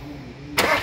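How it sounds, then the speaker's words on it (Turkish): A VW Jetta 1.9 TDI diesel engine cranks and catches, a sudden loud broadband burst of starting and running engine after a quiet low hum, close by. "Kayışı takalım ve marşa basalım."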